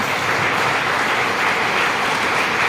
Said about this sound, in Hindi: मैं चाहूंगा एक जोरदार ताली होनी चाहिए